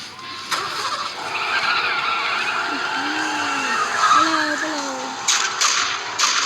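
A video game car skids at high speed, with tires squealing in wavering, drawn-out screeches over a steady engine roar and a few sharp clicks near the end.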